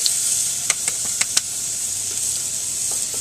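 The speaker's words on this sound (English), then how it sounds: "I'm going to add in the 2 tablespoons of butter. So we're going to add the celery" Celery sizzles in butter in a pot over medium-high heat, a bright, steady frying hiss with several sharp utensil clicks and stirring taps in the first half, close and fairly loud.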